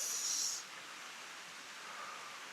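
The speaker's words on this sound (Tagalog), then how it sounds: "mas nakakatakot din pag malakas yung tubig, yung buhos ng falls" Steady rushing water from a forest waterfall at a nature resort in Nantou, heard as a soft, even hiss from a distance, with a brief brighter high tone at the start.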